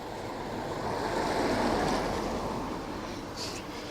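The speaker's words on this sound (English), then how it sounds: "at the moment it's a small bit blustery" Blustery wind buffets a microphone on a riverside walk near the River Liffey in Ireland, a steady loud rumbling roar that swells in the middle and runs without a break, with no voices.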